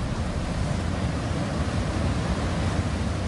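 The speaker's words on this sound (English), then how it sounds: "all the water is channeling down into this one point" Glacial meltwater in Greenland rushing down into a moulin, a dense, continuous roar of churning water, loud and steady with no pauses and no voices.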